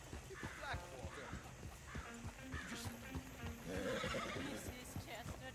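Horses pulling a coach in Red Dead Redemption 2 neigh and whinny over steady clip-clopping hooves and rolling wheels, with voices talking throughout.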